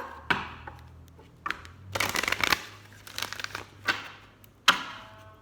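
Angel cards being handled and shuffled, close crinkly rustles and quick riffling bursts coming in short irregular clusters, fairly quiet, with no talking.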